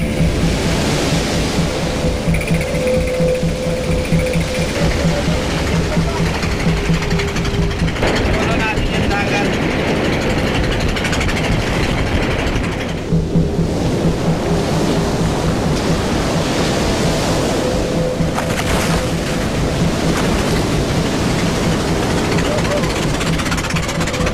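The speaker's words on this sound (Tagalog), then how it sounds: "ang lakas-lakas ng alon" Loud, continuous roar of rough sea and crashing surf heard from a boat out at sea, heavy and unbroken throughout, with engine-like rumble underneath.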